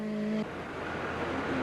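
A Nissan 200 SX rally car roars through a special stage of the 1988 CRC Rallye Défi, a loud, steady broadband engine rush that swells in briefly after a tonal hum and holds close without any talk.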